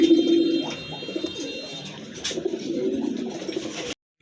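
A pair of Belgian bloodline pigeons coo softly and steadily at close range, a low murmuring call with faint chirps from other birds nearby.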